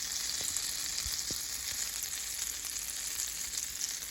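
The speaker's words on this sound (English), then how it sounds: "I put the onion, so I'm gonna fry it" Onion fries in ghee in a pan for vegetable fried rice, giving a steady, close sizzle with a couple of faint clicks underneath.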